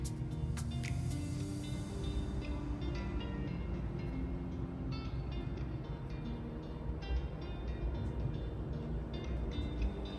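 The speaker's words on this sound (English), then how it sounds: "our night train heading down into the tunnel beneath Oslo before emerging back into the night" A PlusNight night train leaving Oslo rumbles steadily through a tunnel, with a low, continuous roar and faint metallic squeals and clicks from the wheels on the rails throughout.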